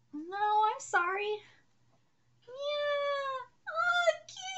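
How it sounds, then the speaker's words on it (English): Cat meowing in a fantasy video game, two drawn-out clear meows with a pause between, followed by a shorter rising meow, loud and close over a faint background hum. "Oh, kitties! Kitty, see? It's a kitty!"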